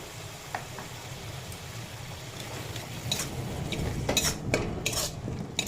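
Spices sauté with potato and pointed gourd in a pan, with a gentle sizzle underneath. A metal spoon stirs and clinks against the pan, the scrapes growing busier and louder toward the end.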